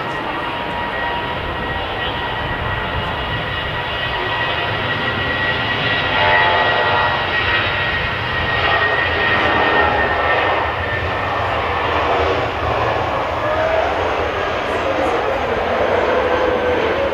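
An airplane departs with a sustained, fairly loud engine roar and whine that swells and holds, with voices talking faintly in the background.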